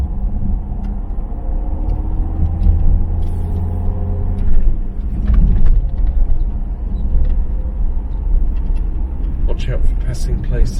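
A car rumbles and jolts along a rough, narrow country road with blind bends, a loud low drone with swelling bumps and rattles while someone talks over it.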